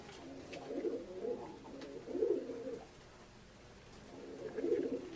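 A pigeon with a long neck and long legs coos softly in three low, throaty phrases, with short pauses between them and no talking.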